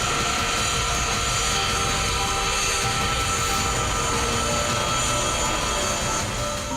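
Engine roar of a US Air Force aircraft, a steady broadband drone with a constant whine riding on top, loud and continuous throughout with no voices.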